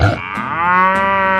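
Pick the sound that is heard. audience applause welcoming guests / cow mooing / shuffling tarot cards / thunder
cow mooing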